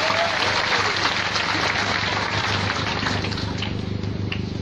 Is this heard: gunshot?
no